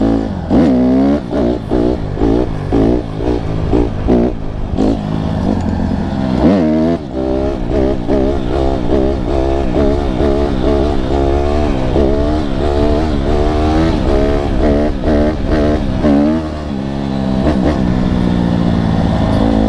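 A Honda CRF150RB dirt bike on a single-track trail revs hard and continuously, the engine rising and falling through repeated throttle blips and gear changes, loud and close throughout.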